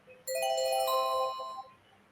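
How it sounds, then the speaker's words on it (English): A short electronic chime sounds alone, a bright ringing tone that holds for about a second and then fades out. "you will hear an alarm bell ring when there is just about 5 minutes left"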